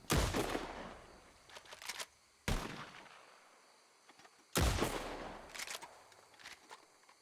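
Lancaster rifle fired in Red Dead: three sharp, loud shots spaced a couple of seconds apart, each with a long rolling echo trailing off, no talk.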